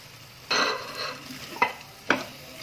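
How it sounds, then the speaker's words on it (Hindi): Onion and capsicum with fresh coriander stir-fried in a pan over a medium-high gas flame: steady soft sizzle broken by three sharp stirring scrapes, close and alone. "प्याज और शिमला मिर्च को भी हमने 2 मिनट भून लिया है"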